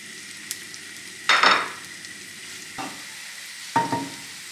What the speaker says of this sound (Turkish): Hemen mantarlarımı koyuyorum yüksek ateşte.